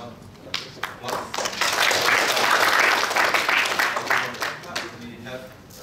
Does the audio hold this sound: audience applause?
yes